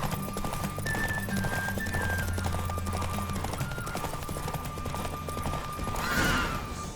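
Horse hooves clip-clop rapidly during a horse race in the video game The Witcher 3, a continuous galloping rhythm under game music and effects, with a brief burst of noise near the end.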